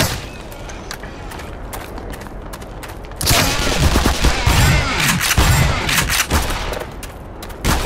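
Loud bursts of weapon fire in the Black Mesa video game, a rapid volley of gunshots and booms swelling after a quieter opening and carrying on in dense clusters to the end, with no talking.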